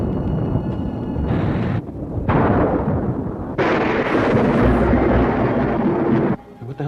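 Loud bursts of thunder from a lightning strike during a Halloween-night storm, crashing in several heavy rumbling waves with brief gaps between them, with no voices over them.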